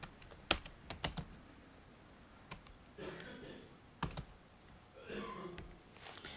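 Someone types on a computer keyboard while filling in a Nepal e-passport form online, giving quiet, sparse clusters of keystroke clicks with short pauses between them in a calm room.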